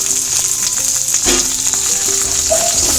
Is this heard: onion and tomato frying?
yes